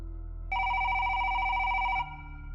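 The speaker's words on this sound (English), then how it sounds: "He hung up and was about to leave, when the public phone rang." A public pay phone rings as a sound effect in a ghost story, a single steady electronic ring burst of about one and a half seconds over a low background hum.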